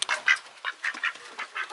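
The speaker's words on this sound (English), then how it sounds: "Is that what they're quacking about?" Ducks quack repeatedly in a rapid, uneven series of nasal calls, fairly close and loud, with no talking over them.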